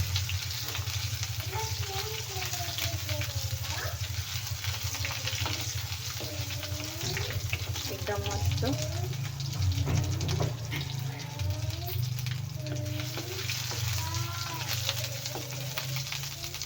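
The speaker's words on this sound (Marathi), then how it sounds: "लसण पण आपल्याला छान लाल करून घ्यायचं आहे" Crushed garlic fries in a pan until it turns reddish-brown for a carrot and beetroot chutney with green chillies, giving a steady continuous sizzle with faint voice traces underneath.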